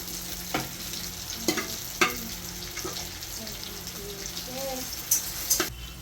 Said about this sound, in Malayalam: ബീഫ് നമുക്കതിൽ ചുവന്നുള്ളിലേക്ക് മൂത്ത് വന്നു. ബീഫ് ഇട്ട് കൊടുക്കാം കേട്ടോ.